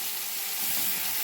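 Chicken and browned onions sizzle in a pot while a Bannu chicken pulao is being made, a steady close frying hiss that swells slightly partway through.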